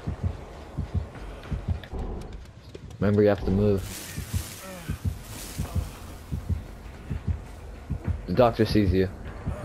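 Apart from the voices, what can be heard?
killer's heartbeat warning in the video game Dead by Daylight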